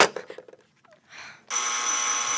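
A telephone in a radio drama gives a loud, continuous bright electric ring that starts abruptly after a few brief muffled sounds and carries steadily to the end.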